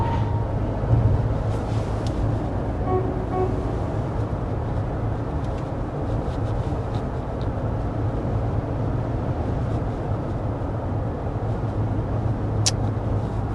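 Cabin noise inside a 2024 Lexus TX 350 driven at 55 mph in Austin traffic, a steady low road and engine rumble with faint wind hiss, continuous and moderately loud, with no talking.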